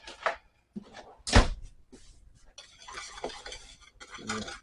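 A brisket sandwich mixture is stirred with a utensil, giving irregular scraping and clinking strokes with one sharp knock near the middle, fairly close and moderate in volume, with no talk.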